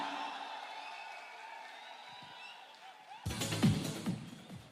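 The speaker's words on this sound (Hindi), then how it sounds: "एवरीवन जोरदार तालियां, make some noise, come on" Crowd at a corporate event cheering and clapping for the entry of the MD and CEO, bursting in suddenly after a quieter stretch of tones, loud broadband roar with whoops, moderately distant.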